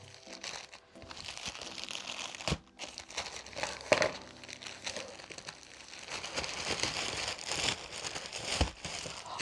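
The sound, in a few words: unwrapping layered paper parcel packaging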